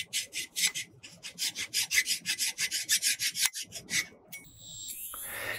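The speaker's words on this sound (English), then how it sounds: "Then do the same thing on the new ring gear, removing any burrs on the surface." A new ring gear for a Dana 44 axle is deburred by hand, with about fifteen quick, evenly spaced scraping strokes across its surface, close and loud, ending with a brief clatter.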